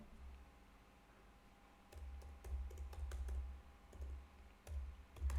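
Quick bursts of key presses on a computer keyboard as a file name is typed for a CSS background property file, sharp clicks in uneven clusters, close and alone with no talk.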